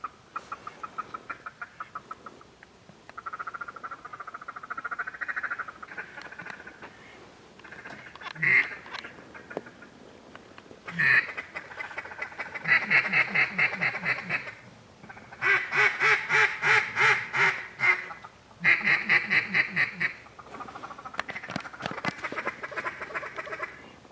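Mallard ducks quack repeatedly in loud, rhythmic bursts on a shallow river, some close and raspy, with quieter calls and pauses between volleys.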